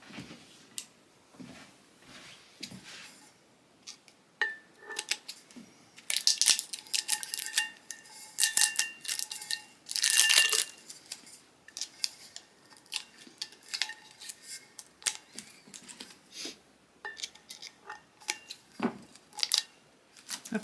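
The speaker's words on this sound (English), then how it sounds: "Let me grab my scissors." Scissors snip through tape on a taped Cricut sublimation blank, a quick run of crisp, close cuts and rustles in short bursts, with quiet handling sounds between them and no talking.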